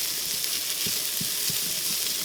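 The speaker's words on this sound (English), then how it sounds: "Drop in our onion. We're just building flavor here now" Chopped onion sizzles in hot oil inside a Cosori pressure cooker, giving a steady bright frying hiss with a few soft stirring thumps.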